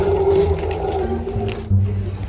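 A wild elephant in the jungle gives a loud, low, rumbling roar-like call that continues for the whole stretch, with rough swells and a deeper burst near the end.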